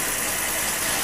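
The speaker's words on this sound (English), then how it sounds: "Governs the speed of the DC, 50 volt DC motor." A 50 volt DC motor driving a pulse generator with offset cams and make-and-break contacts hums steadily, a close, even whirring drone with no break.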